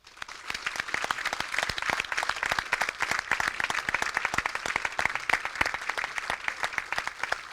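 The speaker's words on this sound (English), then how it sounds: "I want you to give those great troopers a round of applause" A crowd at an outdoor army change of command ceremony applauds troopers, with dense, steady clapping that swells in quickly and holds throughout.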